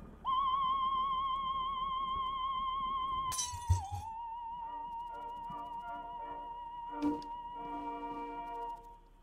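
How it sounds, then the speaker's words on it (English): A loud crash of breaking glass in the horror game Vlad Circus: Descend Into Madness, a burst of shattering around the midpoint over a steady humming tonal drone, with a smaller clink following a few seconds later. "Break the glass."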